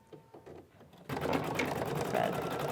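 An embroidery machine stitches an applique onto fabric, starting abruptly after a second of quiet room tone with a dense, steady whirring rattle of rapid needle strokes, close and loud.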